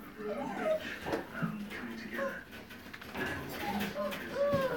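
A dog at a kennel whimpering and yipping in short, high, wavering cries scattered through the stretch, close by, with a person talking intermittently over it.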